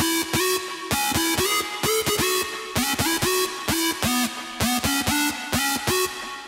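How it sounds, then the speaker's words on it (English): A buzzy square-wave hardstyle synth lead plays a quick, staccato melodic pattern with echoing delay repeats and gritty distortion, loud and continuous with no voices. "There was one new lead that I've made,"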